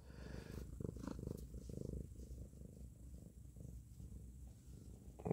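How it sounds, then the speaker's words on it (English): A cat purrs steadily and close by, a low rhythmic rumble running continuously throughout with no speech. "don't know if you guys can hear him purring, but he's purring."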